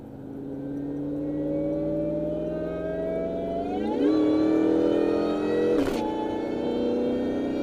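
A turbocharged car engine revs and accelerates under throttle, a loud steady drone rising in pitch around the midpoint, with a brief sharp whoosh near the end.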